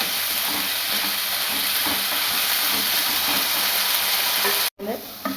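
Beef frying in a pan over a high flame: a loud, steady sizzle and hiss that runs continuously, with light stirring scrapes, and a brief cut near the end.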